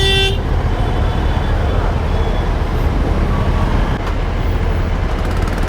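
Heavy, slow-moving road traffic around a Suzuki Hayabusa motorcycle, a dense, loud rumble of engines with a brief horn toot at the start and someone talking over it.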